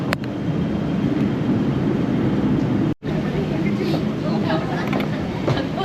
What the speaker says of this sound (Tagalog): Let's go, ito na yung train.